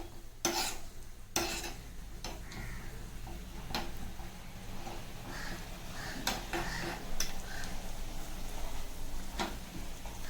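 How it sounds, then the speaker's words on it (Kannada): Cashews fry in a pan until golden brown, with a low sizzle and frequent scraping, clicking stirs of a spoon, including a few sharp knocks early on, with no talking. "ಸ್ವಲ್ಪ ಗೋಲ್ಡನ್ ಬ್ರೌನ್ ಬರೋವರೆಗೂ ಚೆನ್ನಾಗಿ ಇದನ್ನು ಫ್ರೈ ಮಾಡ್ಕೋಬೇಕು."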